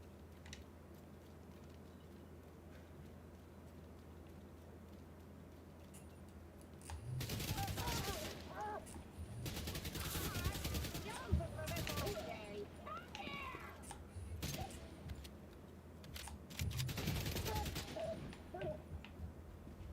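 Several bursts of automatic gunfire crack out in The Division 2, loud and clustered in the second half after a quieter stretch, with a voice talking at moments around the shots.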